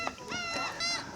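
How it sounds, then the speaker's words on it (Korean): Seagulls call at a seaside island campsite near a bridge, a few harsh honking cries close by with nasal, layered tones in quick succession and no talk over them. "여기는 갈매기들이 이렇게 사람을 쳐다보고 있어요"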